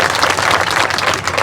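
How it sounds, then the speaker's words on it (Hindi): An audience claps steadily in welcome for politician Abhay Singh Chautala at a student support gathering, a dense, even wash of applause filling the short moment without any voices. "जोरदार तालियों से स्वागत कीजिए।"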